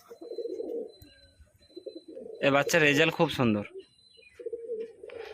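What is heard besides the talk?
breeding pair of pigeons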